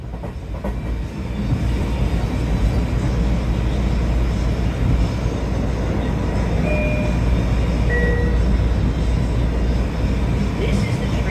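A Long Island Rail Road M9 electric train running between Ronkonkoma and New York Penn Station, heard from inside: a steady low rumble and wheel noise building after the first second, with faint brief tonal whines.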